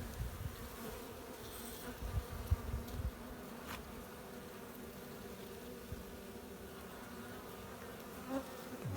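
Honeybees in a hive with a failing queen and emptied stores, giving a continuous low droning buzz that is steady and moderately close, with a few faint knocks and no talk.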